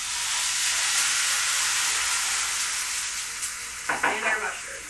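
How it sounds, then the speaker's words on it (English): Steady, loud sizzling of garlic in a hot pan, a broad frying hiss that continues throughout, with a few brief clatters and stirring sounds near the end. "Back into the pan with this. More sizzle."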